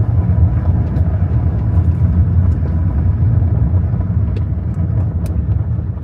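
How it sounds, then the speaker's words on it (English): A vehicle driving a rural back-road dirt track in Pennsylvania, giving a loud, steady low rumble of engine and tires that carries evenly from start to finish with no talking. "I'm riding on the dirt road"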